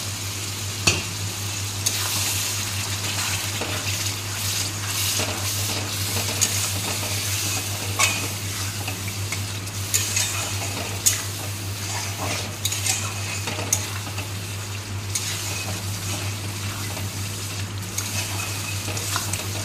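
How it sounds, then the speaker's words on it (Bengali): Cumin, coriander powder and ginger paste with a splash of water sizzling in a pan for Bengali chicken curry, stirred with a metal spoon that clinks and scrapes repeatedly over a steady low hum, no talking. "এবারে মশলাটা এইভাবে কষিয়ে নেবো।"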